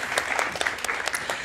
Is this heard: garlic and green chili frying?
no